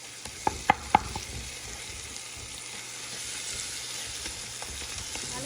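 Curd and tomato being mashed and stirred in a pan while cooking mutton biriyani, with a few sharp spoon taps against the pan early on over a steady low sizzle.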